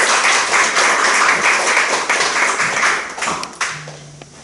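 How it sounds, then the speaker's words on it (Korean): A church crowd claps steadily for a few seconds, a dense patter of applause that thins out near the end. "박수로 맞이하겠습니다"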